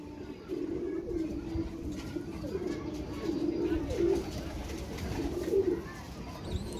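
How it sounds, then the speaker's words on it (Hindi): Pigeons brought from Multan, Pakistan, keep up a low, throaty cooing in soft repeated bursts. The calls sit over a steady background hum. "ये जी मुल्तान वाले कबूतर है"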